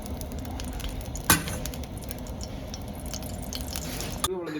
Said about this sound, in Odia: ଅଣ୍ଡାଟା ନା ଫ୍ରାଏ ହେଇଯିବ